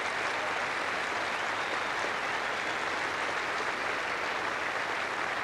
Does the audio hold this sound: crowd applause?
yes